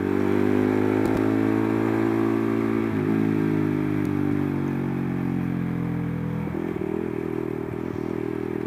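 Modified 2005 Suzuki Satria FU motorcycle with a 230cc engine, heard while riding: a loud, close, steady engine drone that rises and settles with the throttle, with occasional clatter and scrapes and no talking.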